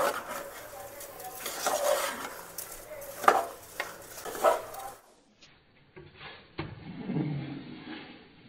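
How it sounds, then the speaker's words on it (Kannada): Rice for a vegetable pulao fries in oil in a pot with soft sizzling and repeated scraping stirs of a spoon, fairly quiet and close, fading to sparse clinks near the end. "ಇವಾಗ ರೈಸ್ ಎಲ್ಲ ಎಣ್ಣೆಯಲ್ಲಿ ಸ್ವಲ್ಪ ಫ್ರೈ ಆಗಲಿ."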